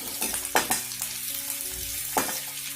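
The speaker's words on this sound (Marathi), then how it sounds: "पिस्ता आणि खारीक बारीक गॅसवरती परतून घ्यायचे" Pistachios and dry dates roasting in a pan over a gas flame for sheer khurma, with a close steady sizzle and a few quick scraping stirs of the spoon.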